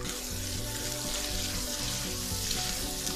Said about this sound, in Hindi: अब मसाले को भूनना है बिल्कुल स्लो आंच पे पकाना है इसको